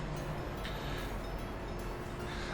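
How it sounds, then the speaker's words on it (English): A train rolls along the tracks in the city-building game Soviet Republic, a steady rumbling, noisy drone with faint periodic clacks, heard close and continuous without any talk. "But this train here saw that his path is free, and he just went for it."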